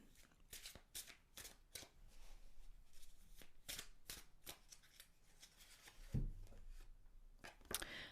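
Osho Zen tarot cards are shuffled by hand in quiet, close, repeated riffling bursts of paper flutter, with a soft knock near the end.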